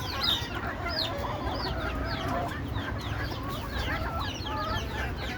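A flock of free-range desi laying hens on a rooftop clucks and chatters continuously, many overlapping calls at a moderate distance, forming a busy, steady barnyard din.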